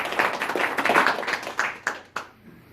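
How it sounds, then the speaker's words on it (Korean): Employees clap at a company anniversary event in Korea, a dense burst of applause from a sizable crowd that swells, then thins to a few last claps and fades out. "여러분들의 힘찬 격려 박수 부탁드리겠습니다."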